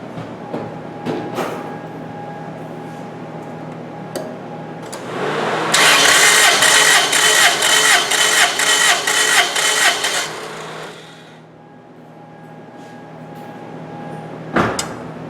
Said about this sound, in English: you're going to put the engine in wide open throttle and crank it for 5 seconds